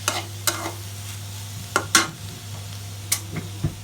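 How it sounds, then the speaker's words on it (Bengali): Onion leaves frying in a pan, a soft continuous sizzle broken by several sharp scrapes and clinks of a spatula stirring against the metal, close and quiet with a steady low hum underneath. "ভাবলাম যে পেঁয়াজের পাতাটা একটুখানি ভাজি করে ফেলি।"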